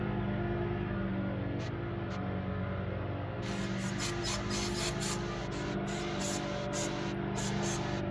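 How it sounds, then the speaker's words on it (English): Cleaner sprayed through a part of a Honda GCV160 lawn mower engine, a close, steady hissing spray running the whole time with brief sharper bursts in the second half. "Let's try spraying some stuff through it."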